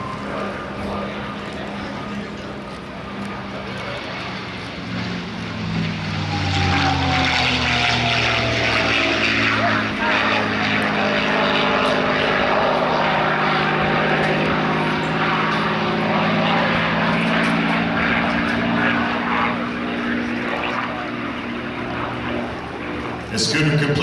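A propeller airplane passes overhead at an airshow, its engine drone swelling from about five seconds into a loud, sustained roar with shifting Doppler tones before easing slightly near the end.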